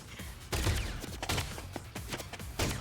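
Laser guns fire in a video game police raid, a rapid series of sharp synthetic zaps and bursts close up over a busy background of game effects.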